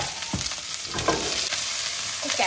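Chopped onion and capsicum sizzle in a hot pan for a prawn dish. A continuous close frying hiss runs throughout, with soft scrapes and clatters as the pieces are stirred, and no voices.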